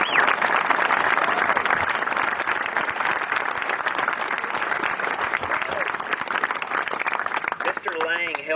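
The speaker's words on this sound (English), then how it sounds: "how about another round of applause?" Sustained audience applause at a Battle of Gettysburg 158th anniversary event for a talk on Pickett's Charge, dense steady clapping from a crowd that tapers slightly toward the end.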